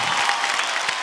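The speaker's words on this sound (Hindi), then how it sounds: "एक बार जोरदार तालियां मेरे बेटे के लिए" Audience applause for a son's dance performance on a Hindi family TV show stage, a steady continuous wash of many hands clapping, fairly loud and even throughout with no voices on top.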